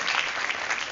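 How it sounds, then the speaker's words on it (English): Brief burst of dense clapping from a tour group in London, honoring birthday helpers, bright and close and lasting about a second. "Round of applause for my birthday helpers"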